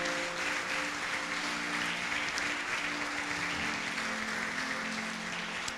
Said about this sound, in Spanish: Denle un fuerte aplauso si lo cree.